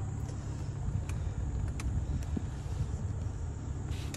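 A 2010 Volvo S40 five-cylinder engine idles steadily just after starting, a low continuous hum with faint wind-like hiss, heard close with no talking.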